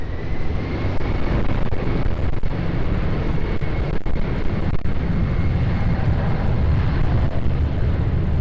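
A plane takes off from runway 20 at Lisbon Airport, heard as a continuous broad jet roar holding steady at moderate distance, with occasional wind buffeting on the microphone.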